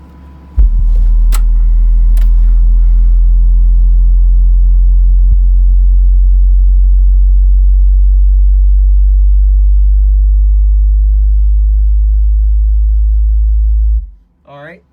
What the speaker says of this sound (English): now I'm going to do a sweep real quick to find what my peak is at low volume first.